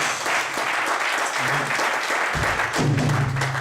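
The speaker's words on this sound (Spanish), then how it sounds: "Y un aplauso fuerte para Cristo también" A church congregation applauds loudly and steadily throughout, dense clapping filling the space, with a voice briefly speaking over it near the end.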